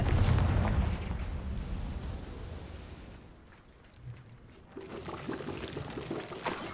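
A Confringo fire spell blasts in the Hogwarts Legacy video game, a loud booming burst that rumbles and fades over a few seconds before another softer rush of game effects rises.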